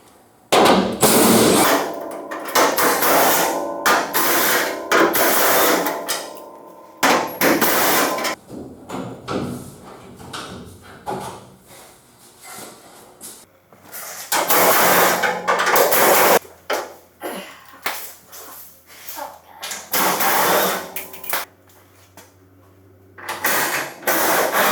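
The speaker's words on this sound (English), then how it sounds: "let's start taking all these bolts out" Ratchet and hand tools working loose the fender bolts on a 1965 Ford Thunderbird, heard as bursts of rapid clicking and metallic clanks separated by pauses, close and fairly loud with no talking.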